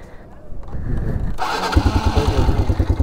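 An off-road motorcycle, an NS200 at a dirt track, cranks and catches after a short starter whirr, then settles into a loud, close, pulsing idle, with people talking briefly before it starts.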